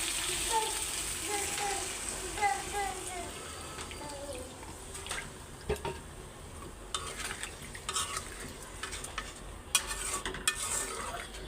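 Gravy poured into a pan of sizzling chicken curry, a steady hiss of frying and stirring with liquid sounds, moderately close, with faint background voices.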